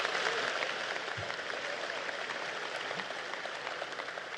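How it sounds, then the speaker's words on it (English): Broad, continuous applause from a large crowd at a law enforcement swearing-in ceremony in Washington, D.C., steady and somewhat distant, with no voices over it. "Give them a big round of applause."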